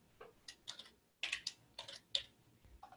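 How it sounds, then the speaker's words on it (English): A short run of crisp, close keystrokes on a computer keyboard as a search is typed into accounting ERP software, clicks arriving in small bursts with a brief pause midway and no talk. "So if I type New York,"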